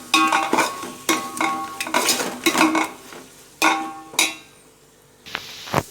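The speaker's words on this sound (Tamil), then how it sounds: "இஞ்சி பூண்டு பேஸ்ட்டை போட்டு அதையும் ஒரு கிளறு." Ginger garlic paste being stirred in a pan for chicken biryani, a spoon scraping and clinking against the metal in repeated close, loud strokes with short pauses and no talking.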